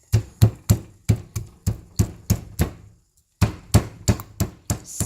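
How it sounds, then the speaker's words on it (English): Fresh ginger pounded in a mortar: a steady run of sharp, close thuds about three per second, a brief pause, then another run of the same strikes. "that little piece of ginger I showed you, in my mortar, I'm going to grind it."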